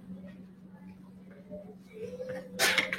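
A man's sneeze in a classroom, one sharp broadband burst near the end, loud and close, following a low steady hum with faint talk and rustle.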